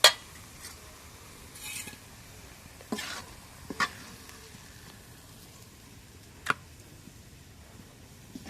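Fried black taro (kochu) is stirred in a pan, with faint scraping and a few soft, sharp clinks spread out over a low, steady sizzle.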